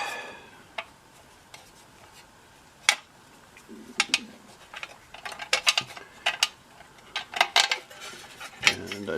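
Small metal radio mounting hardware, nuts for potentiometers on an early 1970s Graymark 511 all-band radio, handled by hand: sparse light clicks and clinks that grow busier toward the end, close up, with no talking.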